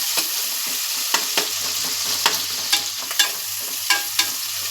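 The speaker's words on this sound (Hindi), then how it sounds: "तो अभी मैं इसको थोड़ा भूनने देती हूँ" Meat fries (bhuna) in a pan for daal gosht with a continuous loud sizzle. Repeated sharp clicks and scrapes of a spoon stirring against the pan cut through it at irregular intervals, and no one speaks.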